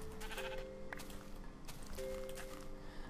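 Sheep bleating in Minecraft, two short blocky bleats at moderate level over a steady busy game background with light footstep-like taps, no talking.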